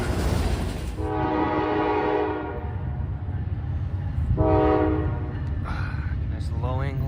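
Freight locomotives with a GE Evolution unit rumble past while the horn sounds two long blasts, then a shorter toot, over a steady heavy rolling drone; a voice speaks briefly in the background.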